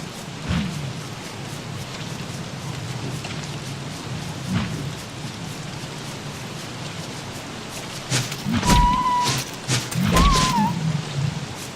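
Frog rain in the video game Don't Starve Adventure: continuous rain hiss with scattered low croaks and rumbles, and a cluster of sharper impacts and short tonal game sounds toward the end.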